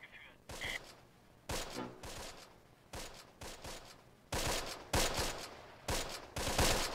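Gunfire in the Close Combat tactical war game, during a battle at Pontaubault. Repeated bursts and volleys of rifle and machine-gun fire come in sharp, uneven clusters throughout, at a moderate level.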